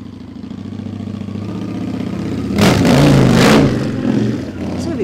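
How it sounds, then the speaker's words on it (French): A motorbike sweeps past, its engine swelling loud and close for about a second before fading, heard over a steady low hum and background chatter. "c'est pas son fils qui passe là avec cette superbe moto?"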